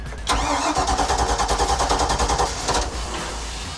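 A boat engine cranks briefly, then catches and settles into a loud, rapid, chugging idle close by.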